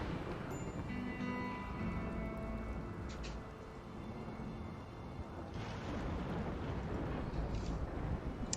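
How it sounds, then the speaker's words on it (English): Steady rain falls with low rumbling thunder in the RimWorld video game, a continuous wash of sound with a heavier roll building in the middle. "It's raining again."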